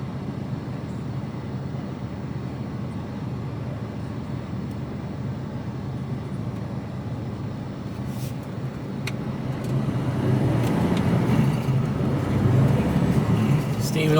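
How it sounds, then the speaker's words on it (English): Steady road-traffic rumble heard from inside the cab of an HGV container truck in the UK, a broad low drone that swells louder toward the end, with faint talk from the cab. "Lot of traffic."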